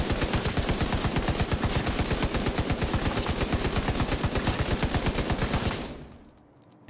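Sustained light machine gun fire in the video game The Division 2, a loud rapid unbroken stream of shots for about six seconds before cutting off abruptly.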